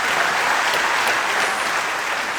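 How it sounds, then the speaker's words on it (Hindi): Loud, sustained applause from a large audience at a live motivational event, a dense continuous clatter of many hands clapping with no pauses and no speech. "जोरदार ताली होनी चाहिए।"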